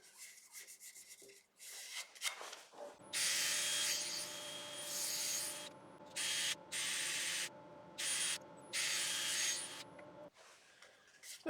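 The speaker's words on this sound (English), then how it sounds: "So, time for sanding." A live-edge cherry wood bowl spinning on a lathe is sanded with a steady abrasive rasp in bursts, the lathe hum running underneath, near and moderately loud, with no talking.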